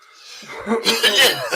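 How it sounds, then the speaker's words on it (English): A burst of throaty coughing and sputtering that builds after a quiet start, several rough bursts close to the mic. "My turn to have a coughing fit."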